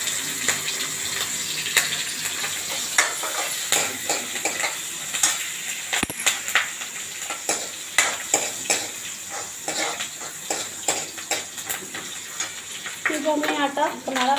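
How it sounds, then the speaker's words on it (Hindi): Cumin seeds and chili frying in ghee in a pan, a steady sizzle under repeated clinks and scrapes of a spoon stirring, fairly loud and close throughout. "इसमें थोड़ा सा जीरा डालेंगे, फिर आप ब्राउन होने तक भूजेंगे"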